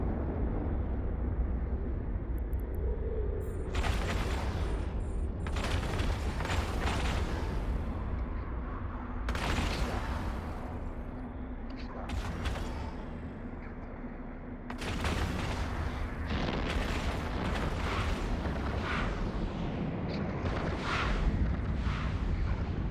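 Rage rockets firing and exploding in EVE Online space combat, repeated loud broadband bursts and booms in clusters over a continuous low rumble, no talk.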